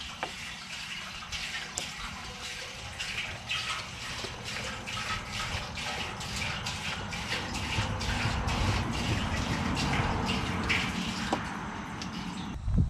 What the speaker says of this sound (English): add 2 gallons of water